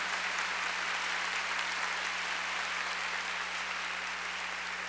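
At a Catholic prayer gathering led by Padre Léo, the congregation keeps applauding the Gospel reading. The clapping is loud, sustained and even, a continuous crackling roar with almost no voices.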